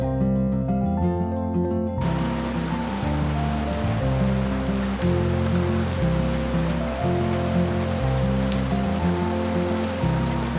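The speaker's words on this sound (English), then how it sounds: "It's such a relief that the rains have come back to the Ghats." Monsoon rain falls steadily over the Ghats near a reservoir, a continuous close hiss of drops on surfaces, heard under sustained music throughout with no talk.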